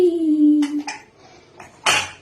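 A metallic pressure cooker lid clanks and scrapes against the pot as it is opened, with a ringing tone fading out, then a final louder clatter of cookware up close.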